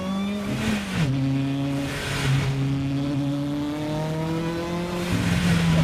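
A tuned, lightweight Lotus with a 1.8 liter engine making over 700 horsepower revs hard through several gears. It roars loud and close as the pitch climbs, drops at each shift and climbs again, with no talking.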